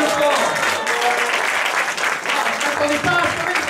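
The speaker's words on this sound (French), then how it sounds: "Applaudissez bien fort!" A church congregation applauding during a sermon: loud, sustained clapping throughout, full and close, with a few voices mixed in.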